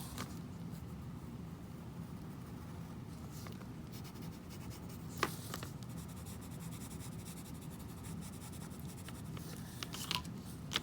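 Regular pencil drawing on paper, a faint, steady scratchy rubbing of graphite strokes, close and quiet, with a few slightly sharper taps scattered through.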